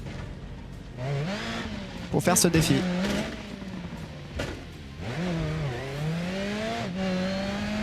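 Car in the BeamNG.drive video game, an engine whining and revving up and down, with a burst of tire squeal and skidding midway, heard under someone talking in French.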